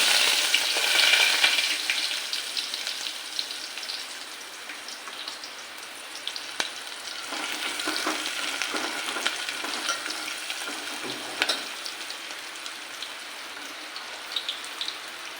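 Onion frying in oil with mustard seeds and cumin for a mutton rassa, a steady close sizzle with fine crackling and spatter that flares and settles throughout, with no talking.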